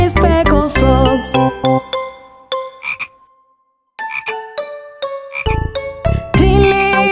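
Frogs croak repeatedly over a bright, tinkling children's song accompaniment, with loud, rhythmic croaks clustered at the start and end around a brief near-silent pause.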